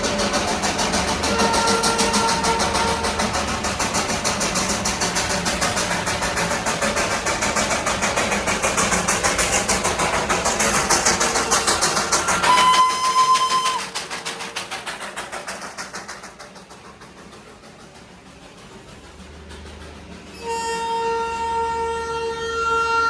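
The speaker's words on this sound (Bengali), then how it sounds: "এখান থেকে একটা টয় ট্রেন যাচ্ছে, ওটা আগে দেখিয়ে নিই" The Darjeeling toy train passing close by, a loud chugging engine rumble with a long siren-like whistle blast, fading, then a horn-like tone returning near the end.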